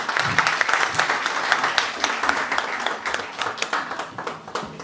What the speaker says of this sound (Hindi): प्लीज जोरदार ताली के साथ स्वागत